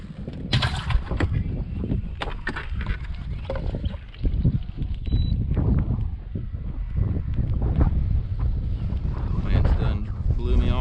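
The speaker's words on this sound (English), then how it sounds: "Wind's done blew me all the way around." Strong gusty wind buffets the microphone outdoors on a fishing boat out crappie fishing in April, a loud rough rumble with irregular bumps and knocks throughout.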